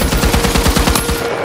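An M60 machine gun in a video game fires one loud, close burst of rapid rounds, then cuts off.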